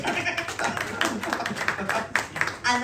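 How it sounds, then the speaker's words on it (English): Live audience at a comedy podcast recording at the Edinburgh Festival Fringe applauds, a dense patter of clapping filling the whole stretch with a few sharper claps standing out, fairly near. "Give us a round of applause."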